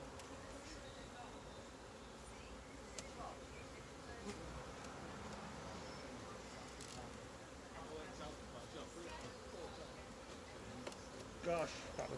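Honeybees swarm around an open hive, their buzzing forming a dense, continuous drone with individual bees passing close by, under the quiet talk of someone nearby.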